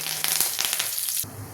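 Curry leaves hit hot groundnut oil with mustard seeds, giving a short crackling sizzle that drops to a quieter hiss near the end.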